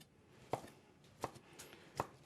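Knife slicing through cooked beef tongue on a cutting board: three separate crisp chops about three-quarters of a second apart, close and clear over a quiet room, with no talking.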